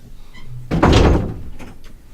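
A door slams shut with a single loud, close, booming thud, followed by a short fading rattle and a faint squeak; no one speaks.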